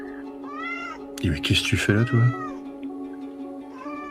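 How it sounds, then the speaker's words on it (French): A small, very thin cat meows several times in a short burst near the middle, close and fairly loud, with a person speaking softly before and after. "une toute petite créature en fait, qui te regarde, qui tourne la tête vers toi, et c'est un chat."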